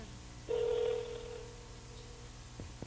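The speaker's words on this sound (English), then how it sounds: "Jim, is your phone ringing?" A phone rings inside a church during a service, a steady electronic tone that holds for about a second and a half before fading, followed by a couple of soft knocks in a quiet, echoing room.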